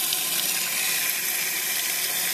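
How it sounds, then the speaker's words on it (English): Water rushes steadily into a Costco toilet's tank and bowl as it refills, a continuous close hiss and splash with no break and no voices. "So you get some water that fills up into this bowl"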